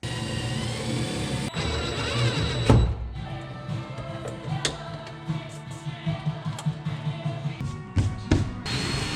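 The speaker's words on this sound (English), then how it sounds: "Here we go, drilling into the car." A power drill bores into the metal body of a truck while an overland camper's electrics are installed, whirring close in short bursts with clicks and knocks between.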